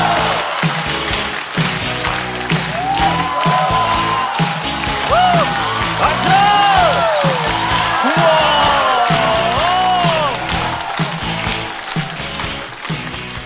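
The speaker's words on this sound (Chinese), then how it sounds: "让我们掌声欢迎阿修" Comedy club audience at a stand-up show welcoming a comedian with sustained applause and scattered cheers, steady clapping throughout while a host's voice and music play over it.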